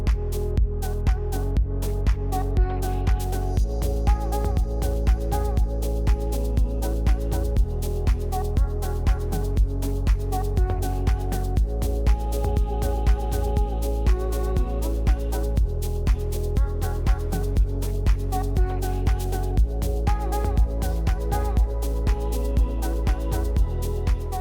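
An electronic music track plays steadily with a deep bass, layered warm synth chords and a regular beat, loud and continuous without any voice.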